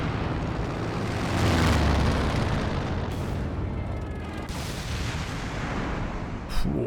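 Grenade explosion in the Company of Heroes 2 war strategy game, set among heavy battle noise. A dense, sustained roar of booms and artillery-like rumble runs throughout, loud and close, with a sharp burst near the end.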